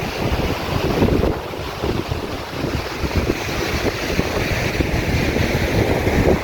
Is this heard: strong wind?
yes